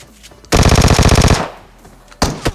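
Rapid automatic gunfire in PUBG Mobile, a loud burst of about a dozen quick shots lasting under a second, followed by two sharp single shots.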